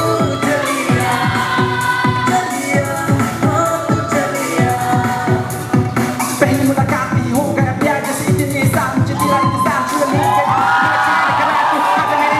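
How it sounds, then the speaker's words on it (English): A school crowd at Kuendrup Higher Secondary School in Gelephu claps and cheers loudly, dense rhythmic applause with scattered shouts and whoops building steadily throughout. "Big round of applause."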